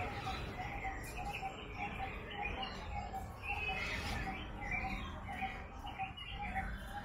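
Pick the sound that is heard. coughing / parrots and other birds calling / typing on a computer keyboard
parrots and other birds calling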